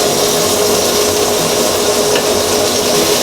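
Philly cheesesteak meat being flipped and stirred on a hot cooking surface, a steady close sizzle with light scraping and rubbing throughout, no talking.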